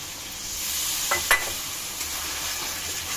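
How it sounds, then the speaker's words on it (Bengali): Spice paste for a chicken curry with turmeric and salt frying in a pan with a little water added, a steady close hiss and sizzle with a couple of brief clinks of a stirring utensil, and no talking. "তো একটু জল দিয়ে মশলাটা আরেকটু কষে নেব আমি"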